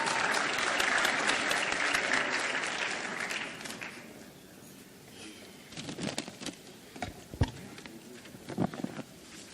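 Audience at a new venture competition applauds a speaker coming up, a loud dense round of clapping that fades out after about four seconds, followed by scattered handling bumps and quieter room noise.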